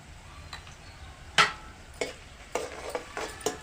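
Onion and turmeric fry in a pan under a soft, low sizzle, with a few distinct scraping stirs and clinks of a spoon against the pan, one louder knock near the middle.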